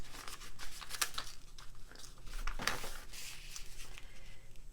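Paper being folded and creased by hand while making a small scrappy notebook for junk journals, a continuous close crinkling and rustling with a few sharper crisp snaps.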